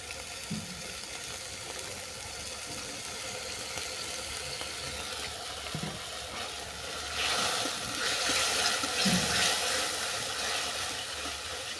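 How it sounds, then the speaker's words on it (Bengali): Water at a rolling boil bubbles and hisses in a pan as tomato ketchup is added, a constant close simmer that swells louder near the end. "জলটা ভালো করে ফুটে যাওয়ার পর দিয়ে দিচ্ছি টমেটো কেচাপ"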